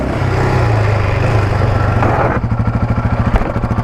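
A four-wheeler ATV engine roars hard as it loops out a wheelie, loud and close, then drops into a rapid, pulsing throb as the revs fall.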